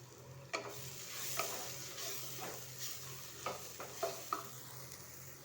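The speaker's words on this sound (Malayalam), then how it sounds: "ഇത് നന്നായിട്ട് ഇളക്കണം." A bone and tapioca dish being stirred in a pan, with a faint sizzle underneath and a few scraping knocks of the spoon against the pan at irregular intervals; no talking.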